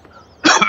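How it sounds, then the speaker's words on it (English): A single sharp, close cough bursts out after a quiet moment and carries through to the end. "I always damn cough, don't I, when I do this."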